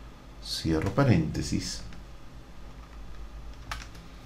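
A computer keyboard is tapped while typing a spreadsheet formula, and a few faint, close keystrokes follow a short stretch of a person talking.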